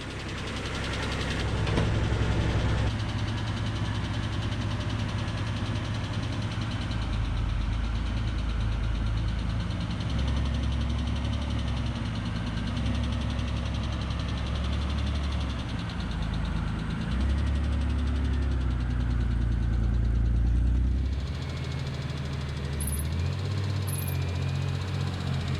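A Mitsubishi 3000GT VR-4 engine runs steadily for about twenty seconds, a close, loud low rumble with slight knocking, before dropping off and settling toward idle near the end.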